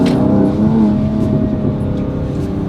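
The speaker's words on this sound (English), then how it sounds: "They will hear it, especially with the little exhaust notes on this." Exhaust note of a 2020 Mercedes-AMG GLC 43 4Matic revving, a loud, steady engine drone with layered harmonics held close for a few seconds.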